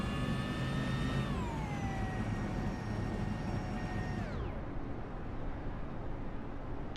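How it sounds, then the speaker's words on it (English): Race car engines in a racing video game at Talladega Superspeedway drone steadily in a pack, then a tone drops away as an engine shuts off to save fuel, leaving a constant rushing roar. "You can hear the engine turning off as the drivers are trying to save fuel here."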